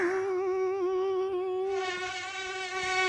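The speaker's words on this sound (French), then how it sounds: "Ah, moustique!" A mosquito whines close by with a steady, thin, high-pitched buzz that wavers slightly in pitch and gets a little louder and brighter partway through.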